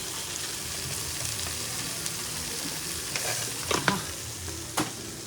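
Paneer curry spiced with coriander-cumin powder, sugar and salt being mixed in a frying pan, a steady sizzle throughout with scraping spoon strokes and a couple of louder clacks toward the end.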